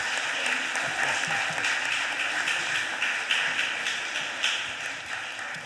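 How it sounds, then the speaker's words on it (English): Applause rolls through the chamber at a Philadelphia City Council stated meeting, dense and sustained clapping from many people in the room, with no talking over it. "Can we give our youth a round of applause for being in the right place at the right time?"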